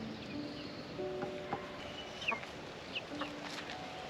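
Chickens, including a few roosters, clucking quietly around a garden yard, scattered soft clucks and short calls at a distance over low background noise.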